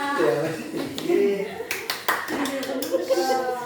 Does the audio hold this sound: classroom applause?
yes